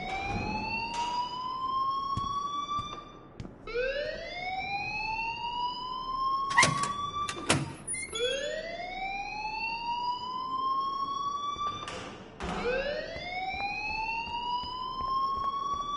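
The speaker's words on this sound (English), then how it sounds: "please turn off that alarm since that's your job" A wailing alarm in Life is Strange Remastered rises and falls in long repeated sweeps, loud and continuous, with a few sharp clanks cutting in partway through.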